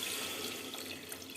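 Water pours steadily into a pot of tomato rice base, a continuous splashing stream lasting a moment with no talking.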